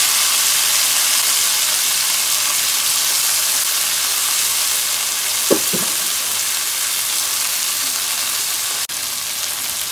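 Cauliflower and peas sizzling in hot oil in a karahi for a mixed vegetable dish, a loud, continuous frying hiss with a couple of faint clicks and knocks from the pan.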